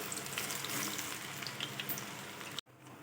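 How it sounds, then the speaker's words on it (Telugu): Small meal maker pakodi frying in hot oil, a continuous close crackling sizzle with scattered pops, steady and moderately loud before a sudden brief cutoff, then the sizzle resumes. "మళ్ళా దీనిని కూడా సేమ్ అలాగనే వేయించుకోవాలి"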